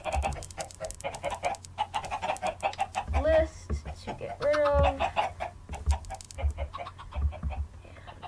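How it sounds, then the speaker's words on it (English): Chickens cluck in Minecraft, short bursts of clucks and squawks scattered through the clip, nearby and moderately loud, while a person talks over them almost continuously. "And follow me, chickies. Chickens, come on."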